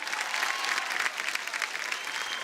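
A studio audience claps loudly and steadily for a comedy show's slog-over segment, a dense continuous wash of applause with no speech over it.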